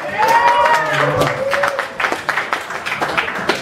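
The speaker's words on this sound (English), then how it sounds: "One more round of applause." Audience applause after a comedy-style open-mic set, dense clapping with cheers and voices mixed in, fading into scattered claps toward the end.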